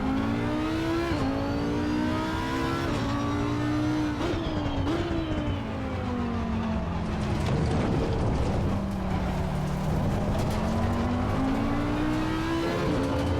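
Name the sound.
race car lap in the video game Assetto Corsa Competizione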